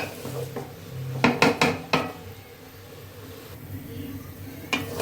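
Rice being fried and stirred in a pot for a home-style biriyani, heard as a few sharp metal spoon scrapes and clanks in a quick cluster, then quieter stirring with a low background hum.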